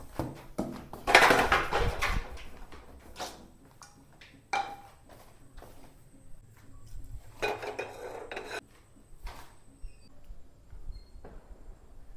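Pots, pans and cutlery clatter during home cooking in intermittent clinks, knocks and scrapes, with a louder burst early on and sporadic, fainter clanks afterward.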